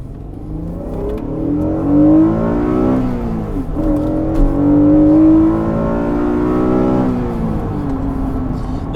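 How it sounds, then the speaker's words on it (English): A Honda NSX V6 revs hard through the gears, its loud, close engine note climbing in pitch, dropping briefly at a shift, then rising again before easing off. "Now let's give you a little sample of that V6 noise I was talking about."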